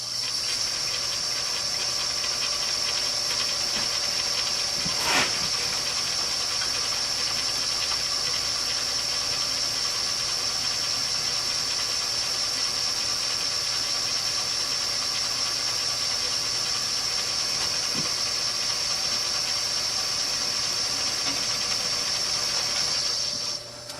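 Lathe or milling machine cutting a cast iron part at 650 RPM, giving a steady continuous mechanical whir with a high tonal whine, loud and unbroken for the whole stretch, with one sharp click partway through.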